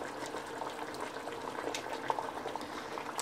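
Hatay-style pumpkin dessert simmering in sugar syrup in a pot over medium heat gives off dense, steady bubbling and crackling up close, with no voices.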